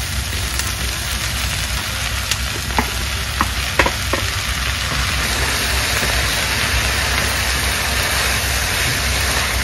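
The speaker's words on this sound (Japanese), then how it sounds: "玉ねぎが少ししんなりしてきたら、ここにマッシュルームを加えていきます。" Onions and mushrooms sizzle steadily in a frying pan for a Japanese hayashi rice made with beef tendon, a dense continuous fry with a few brief clinks and stirring sounds near the start.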